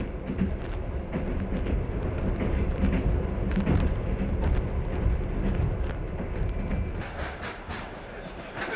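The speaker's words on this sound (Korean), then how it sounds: "울란우데에서의 즐거움을 뒤로하고 열차는 또 다른 목적지를 향해 달린다." Trans-Siberian Railway train running across Siberia after leaving Ulan-Ude, a steady loud rumble with faint rhythmic clatter throughout, heard from on board.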